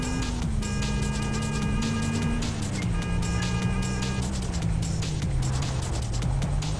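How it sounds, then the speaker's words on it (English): A K-truck engine in a video game drones steadily at a low pitch that rises and falls slightly, continuous and fairly loud, with faint game tones above it. "Is this what a K-truck sounds like?"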